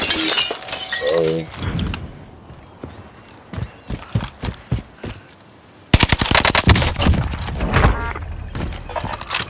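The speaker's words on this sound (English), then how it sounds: "I got guys behind me shooting." Rapid automatic gunfire and single shots in Call of Duty: Modern Warfare come in dense bursts, loud and close, with a quieter stretch of scattered shots before a heavy burst resumes.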